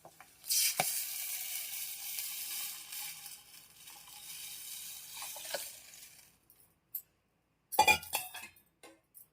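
Horse gram soup is poured into cooking mutton curry, raising a loud sizzle that gradually settles, with occasional metallic clinks of a utensil against the pot and a few sharper knocks near the end.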